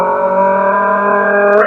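A voice imitates a car engine revving, holding a steady, buzzing, droning tone close up for under two seconds that swells slightly near the end.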